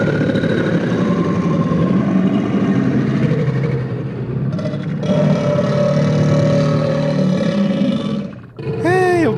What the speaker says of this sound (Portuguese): E outra que ele fazia som de caminhão